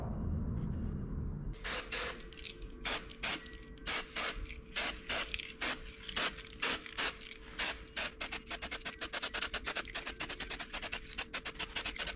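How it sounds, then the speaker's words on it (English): Aerosol primer sprayed onto alloy wheels of a Daihatsu Mira turbo, a long run of short hissing bursts with brief pauses between, close and steady with no talk. "All I'm going to do is lightly prime the areas that I want the paint on"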